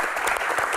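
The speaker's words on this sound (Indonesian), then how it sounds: "Oke, tepuk tangan." A short burst of applause at a sports Q&A event, steady clapping from a group with no voices over it.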